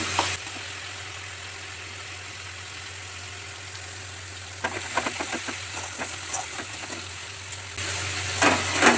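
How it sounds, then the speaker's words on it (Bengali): Spice paste for katla fish kalia sizzles and fries in hot oil in a pan, a steady close hiss with occasional stirring scrapes and crackles, no talking. "দেখুন মশলা থেকে তেল ছাড়তে লেগেছে, আর একটু হবে।"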